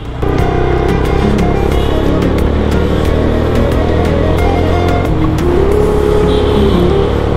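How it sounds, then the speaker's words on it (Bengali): A Taro GP One motorcycle's exhaust droning loud and steady while riding, with constant engine hum and wind rush close to the rider. "বাইক রানিংয়ে ব্লগিং করলে আসলে বাইকের এক্সস্টেড নোটের নয়েজটা খুব বেশি পাওয়া যায়"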